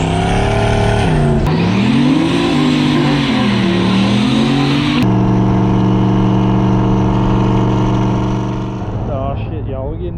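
A budget turbo LS V8 in a 1979 Chevrolet Malibu race car idles and revs loudly up close with a steady, rough drone, swelling and dipping in pitch, then holding a lower steady rumble before easing off.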